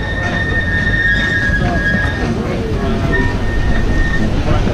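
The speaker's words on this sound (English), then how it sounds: "Here comes the Lego Hot Lake train." A LEGOLAND train rolls past with loud, continuous rumbling and high metallic wheel squeals, close by and steady, with people talking faintly.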